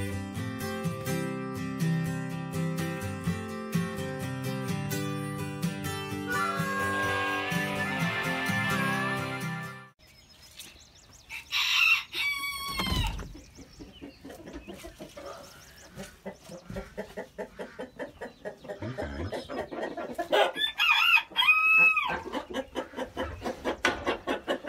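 Backyard chickens let out in the morning cluck in short, close bursts after a stretch of other sound, with occasional sharper calls rising over the clucking.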